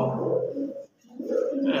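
Pigeons coo in a loft where several of the birds are kept, giving two low, throaty bursts of cooing that break off in a brief gap.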